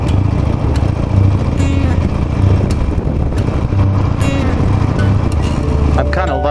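A Harley Davidson Nightster motorcycle engine lugs in third gear while crossing a bridge, giving a steady, close, low rumble mixed with wind and road noise that never lets up.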